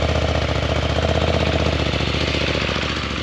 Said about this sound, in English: So the bike, when you turn it on, it's got a press and release. Starts right up, and you can hear it.